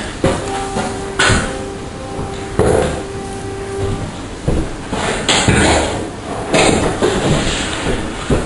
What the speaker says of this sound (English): just put the brown plug. I'm hammering in.